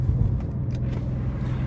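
Steady low engine drone from a BMW M2 G87 being driven, a continuous hum with road rumble underneath, held at even loudness throughout with no talking.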